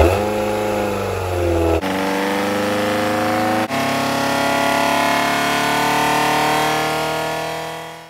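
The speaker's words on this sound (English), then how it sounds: "Today we're going to do a dyno test on a Ford Pinto cylinder head and camshaft upgrade" A Ford Pinto 2.0 engine fitted with an upgraded big-valve cylinder head and camshaft runs on a dyno, holding a loud steady drone with two brief breaks, then a long sustained pull at constant pitch that fades at the end.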